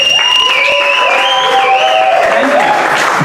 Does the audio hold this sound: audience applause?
yes